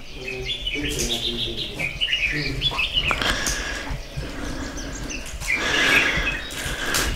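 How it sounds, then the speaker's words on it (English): Birds chirp and sing around a mountain Taoist temple in China, bright repeated calls scattered over several seconds, fairly close, with a voice speaking at times beneath them. "the birds singing"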